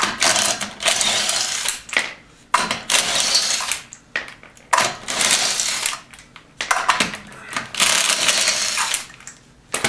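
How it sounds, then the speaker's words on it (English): A 12-volt cordless impact wrench removing front wheel lug nuts on a 2003 Hyundai Santa Fe, rattling in loud repeated bursts of roughly a second each, separated by short pauses, close up with no talking. "I'm going to use my 12-volt impact to make quick work of taking these off."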